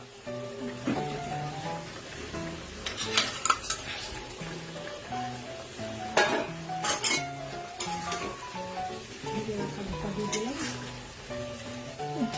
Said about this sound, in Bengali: এবার এর মধ্যে আমরা ধোকাগুলোকে দিয়ে দেবো